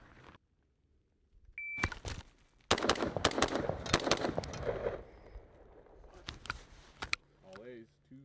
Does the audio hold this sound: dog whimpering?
no